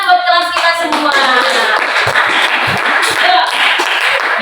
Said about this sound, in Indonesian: Tepuk tangan buat kelas kita semua.